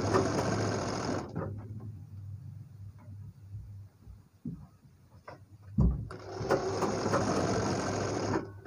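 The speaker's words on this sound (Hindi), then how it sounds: "यहाँ पर इसको सिलाई लगा के इसको जमा लेंगे इस तरीके से" Sewing machine stitching the folded triangle piece for a designer blouse: a steady close whirring run, a pause with light handling clicks and a thump, then the stitching motor starts again and runs on.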